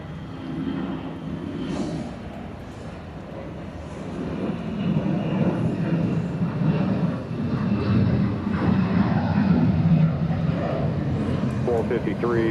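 Airliner landing on the nearest runway at Atlanta airport: a steady broadband jet roar that swells from mid-clip and stays loud to the end, with faint radio chatter in the background.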